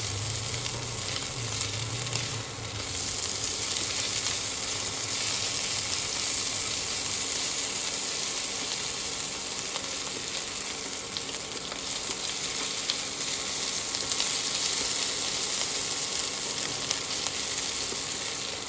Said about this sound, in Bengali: গরম মশলা যে ভাজলাম আমি, সব কিছু সুন্দর একটা, দুটো শুকনো লঙ্কাও আমি দিয়ে দেবো